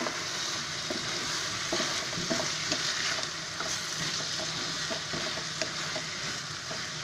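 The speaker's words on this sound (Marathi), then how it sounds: "आता आपली अशी भाजी चरचरते ना" Bottle gourd pieces sizzle and crackle in hot oil as they are stirred in a pan, a steady close frying hiss broken by scraping clicks from the spoon, with no voices.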